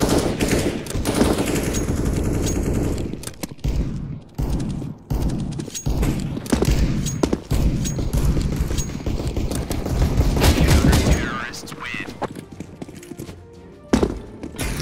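Gunfire in the video game Overwatch. Loud, dense rapid shots and bursts carry on for most of the stretch, then thin out into scattered shots near the end.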